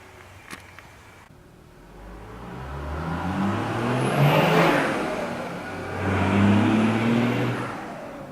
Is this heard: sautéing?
no